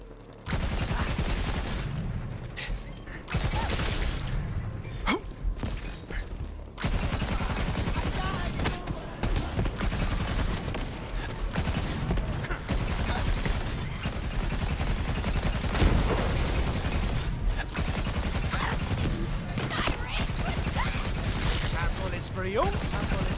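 Gunfire in Borderlands 3: rapid, dense bursts of automatic shooting and sharp shots, mostly continuous with brief gaps, loud and close, mixed with game effects and occasional voice underneath.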